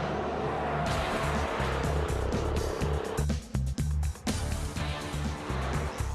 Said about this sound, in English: feeling this gearbox, I think it's changing the gear very smoothly